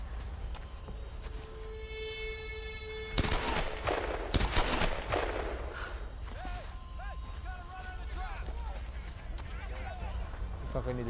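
Gunfire in the Tomb Raider video game: a pair of sharp shots cut through a steady, dense game soundscape with music tones, with faint in-game voices in the background.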